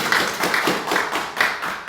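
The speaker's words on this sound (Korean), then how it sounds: "박수로 우리 권사님." A church congregation applauds, with hands clapping in a quick, rhythmic pattern of about four strong bursts, close and loud.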